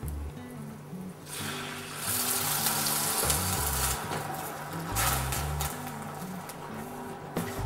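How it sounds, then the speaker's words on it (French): White wine poured onto risotto rice toasting in a pan, for a porcini risotto, sets off a loud, sustained sizzle and bubbling hiss that swells and persists, heard alone over a low background tone. "on y ajoute le vin blanc"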